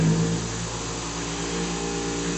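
A Harbor Freight 8-inch bench buffer/grinder fitted with grinder wheels powers up and runs with a steady, even motor hum and whine, close and continuous, with no talking.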